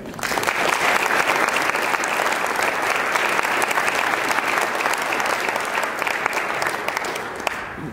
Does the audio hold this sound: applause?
yes